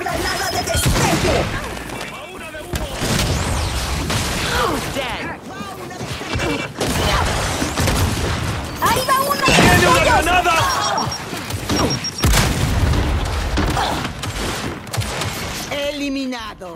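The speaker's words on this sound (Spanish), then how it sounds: "¡Lanzando una de humo! ¡Lanzando granada de destello!" Smoke and flash grenades go off during a Gears of War 5 team deathmatch, with dense bangs, bursts and gunfire running throughout while a voice calls out in Spanish over the action.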